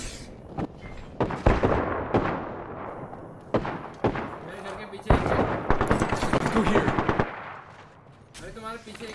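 Loud, close bursts of automatic gunfire in Apex Legends, rapid volleys separated by short gaps, with someone talking in Hindi between and over the shots.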